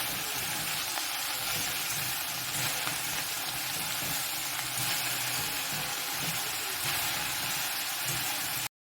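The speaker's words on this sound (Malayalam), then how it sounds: "ഞാൻ ആദ്യം ഫോർക്ക് വെച്ചാണ് ഇളക്കുന്നത് കേട്ടോ." Okra (ladies finger) fries in a pan with a dense, steady sizzle and faint scraping as a fork stirs it, continuous and close throughout.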